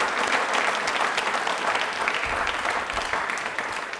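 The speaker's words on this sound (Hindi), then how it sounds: "तालियां हो जाए इनके लिए, बहुत बढ़िया," A studio audience at a televised quiz programme breaks into sustained, dense applause, close and loud for the whole stretch, tapering slightly at the end.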